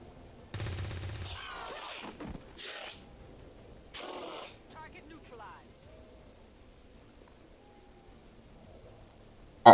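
Gunfire in XCOM 2, a few separate bursts of rapid shots spaced out over several seconds, with a sharp crack at the very end and quieter stretches in between.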